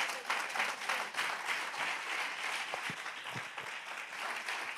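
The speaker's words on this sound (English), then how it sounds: "Let's clap our hands" A church congregation claps hands in praise during a sermon, a steady wash of many hands clapping together at moderate distance, fairly faint and even throughout with no speech on top.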